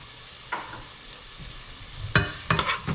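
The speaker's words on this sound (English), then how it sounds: "a little bit of olive oil, get it heated up. Add in your onions." Onions fry in heated olive oil with a soft steady sizzle. Three distinct bursts of stirring and crackling come at intervals, the last two louder and close together.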